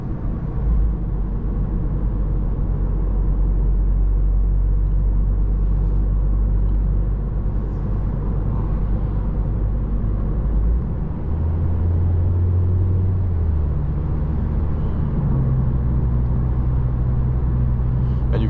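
A car engine drones under heavy road rumble on a midnight winter drive, a loud continuous low roar that shifts slightly in pitch as the speed changes, with no talking.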